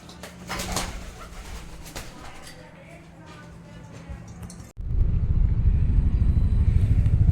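A pigeon trapped inside a house gives low, repeated cooing over a busy indoor background, then a sudden loud rush of broadband noise takes over.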